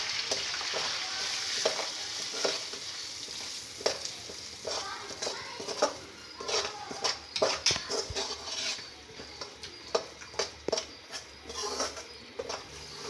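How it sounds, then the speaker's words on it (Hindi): Semolina frying in hot ghee in a kadai while being stirred, a bright hiss under repeated rhythmic spoon scrapes and clinks against the metal that grow busier toward the end, close and steady with no talk. "अब घी गर्म हो गया तो इसमें हम डालेंगे सूजी।"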